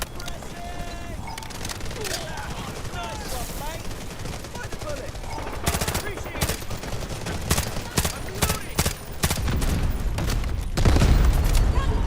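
Dense gunfire bursts and booming blasts in the Delta Force video game, with rapid shots and explosions layered throughout, growing louder and heavier toward the end, under shouted voices and battle callouts.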